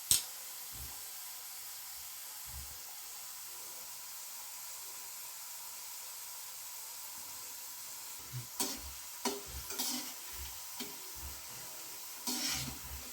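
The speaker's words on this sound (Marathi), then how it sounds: "त्याच्यातलं पाणी असल्यामुळे ते चरचर चरचर असा आवाज येतोय" Potato wafer slices fry in hot oil with a soft, steady sizzle and hiss, and scattered clinks and stirring sounds come in toward the end.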